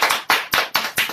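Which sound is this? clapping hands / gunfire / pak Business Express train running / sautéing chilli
clapping hands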